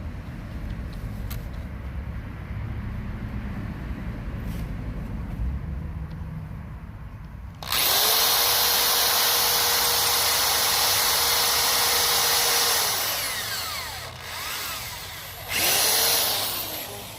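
Power drill driving screws into nominal 1x6 wood boards for a raised bed, one long loud whine of about six seconds followed by a shorter burst, outdoors over steady background hum.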